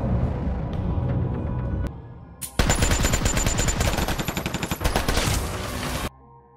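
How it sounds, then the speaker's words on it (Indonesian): Film gunfire as three men shoot wildly: sustained rapid automatic bursts, loud and close, after a stretch of rumbling action sound, then cutting off abruptly. "Saat sedang santuy bersama Ellie, tiba-tiba muncul 3 pria melepaskan tembakan secara membabi buta"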